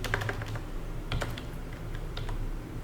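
Clicks of a computer keyboard as code is typed, scattered quick keystrokes in short bursts, fairly close and moderately quiet, with no talking.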